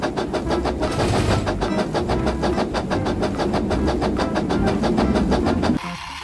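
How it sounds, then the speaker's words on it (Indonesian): A small motor whirs steadily with a fast, regular clicking rhythm as a Thomas toy train runs along its track, close and constant before stopping near the end. "Ini kereta Thomas."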